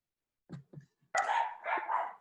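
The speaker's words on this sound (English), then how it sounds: "Russ, and of course now my dogs start barking" Several dogs bark in a home during an online robotics workshop call: a couple of short low woofs, then a louder, sustained run of overlapping barks and yips close by.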